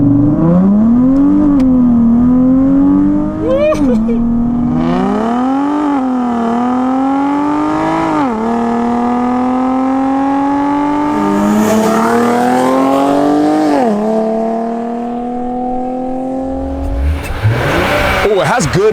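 A 2023 Nissan Z's engine drones loudly from inside the cabin while driving, its pitch climbing and dropping through repeated revs and gear changes, with people talking over it.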